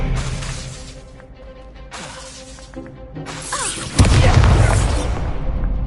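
A magical Expelliarmus spell in Hogwarts Legacy fires with swooshing whooshes and sharp magical bursts, building to a loud crashing impact that rings out near the end, with no talking.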